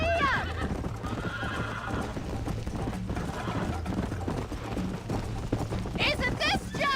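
A horse in Red Dead Redemption neighs loudly at the start and again near the end, its galloping hooves drumming steadily beneath low game music and rumble.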